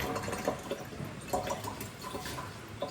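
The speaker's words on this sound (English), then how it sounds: "Maybe I'll quickly rinse some of this as well." Green pitted olives being rinsed with water, producing a steady, close wash of splashing and trickling with a few small drips, with no talking.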